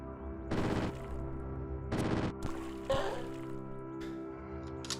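Machine pistol fire in the video game Caves of Qud comes as two short rattling bursts, followed by a single louder impact, over a steady, quiet in-game ambience.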